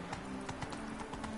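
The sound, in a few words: horse galloping while riding in the video game Witcher 3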